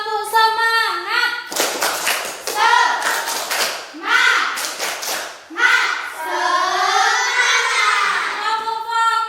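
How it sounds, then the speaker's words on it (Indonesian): Children in a third-grade classroom clap a rhythmic 'tepuk semangat' pattern, loud and close, with bursts of sharp claps mixed with their chanting voices and a teacher's speech. "sekarang anak-anak tepuk semangat"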